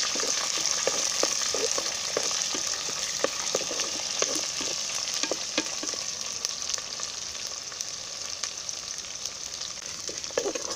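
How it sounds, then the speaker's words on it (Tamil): Onions fry in a pan for beetroot rice, giving a constant close sizzle broken by frequent light clicks and scrapes from stirring. "வெங்காயம் எல்லாமே நல்லா வேகட்டும்."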